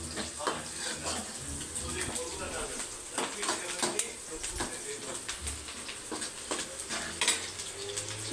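Curry leaves frying in a pan alongside onion and mustard seeds, a busy crackling sizzle broken by repeated stirring and spatula clatter, with a voice talking over it.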